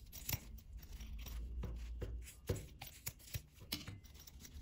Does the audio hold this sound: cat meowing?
no